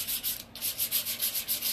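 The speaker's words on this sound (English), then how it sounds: "I'm gonna let it just hit the high points and the edges. I'm gonna kind of go over the edge a little bit more than that, and we're just gonna sand." An orbital-style sander works over a painted furniture surface, hitting the high points and edges, giving a steady loud buzzing rasp with rhythmic surges and a brief dip, no voices.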